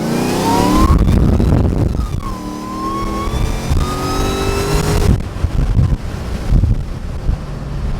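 A Mercedes E55 on Mickey Thompson drag radials pulls hard in first gear, engine note climbing in rising sweeps under heavy wind rush, easing after a few seconds to a rougher, lower rumble.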